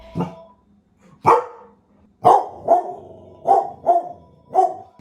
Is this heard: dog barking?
yes